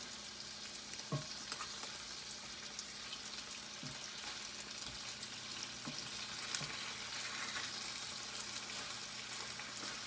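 Salmon pieces sizzle steadily in a frying pan as they are flipped, with a constant hiss and a few soft knocks from the turner scattered through it, fairly quiet and with no voices.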